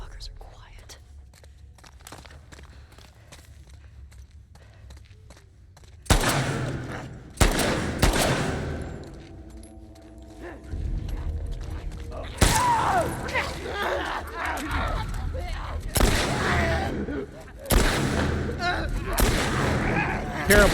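Gunfire in The Last of Us Part II: several loud, sharp shots from a firearm burst out in the second half, set against quieter ambient game sound earlier, with some faint whispering-like voice.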